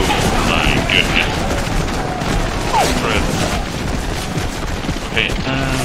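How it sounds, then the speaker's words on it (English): Gunfire volleys and scattered musket shots from a Civil War battle at Second Manassas in the Take Command strategy game, a dense continuous roar of firing with occasional distinct cracks, loud and constant throughout. "they're taking fire from the front, left, right and rear"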